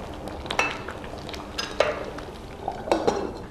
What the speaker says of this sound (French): On va tourner un tout petit peu. Jusqu'à ce que la pâte d'arachide soit assez émiettée.